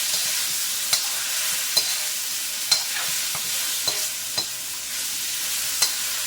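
Chicken breast pieces frying in a hot wok, a bright steady hiss broken by occasional sharp clacks of a spatula stirring against the metal.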